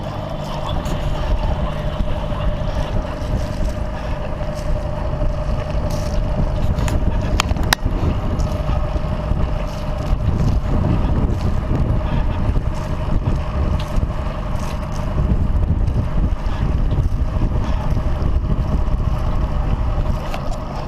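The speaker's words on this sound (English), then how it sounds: "Nice having some confidence in my engine for this." A boat's engine drones steadily while motoring on Lake Huron, a constant mid-pitched hum beneath gusty wind buffeting the microphone for about twenty seconds, with no talking.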